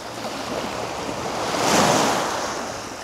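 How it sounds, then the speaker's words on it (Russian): Sea waves and surf break on the shore at Toila, a continuous wash of water that swells to a louder crash midway, with some wind noise and no talk. "Этими волнами насладиться, этот прибой послушать"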